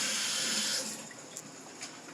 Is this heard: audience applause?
no